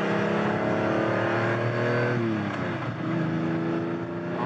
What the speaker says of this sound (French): Ce petit coup de gaz de rétrogradage à chaque fois, c'est un vrai bonheur.